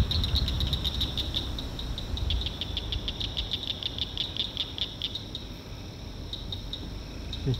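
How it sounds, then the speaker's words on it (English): Cricket frogs calling from a lake at night, a dense chorus of rapid, high clicking trills pulsing steadily throughout over a low rumble of a passing vehicle. "There's cricket frogs of some kind out there."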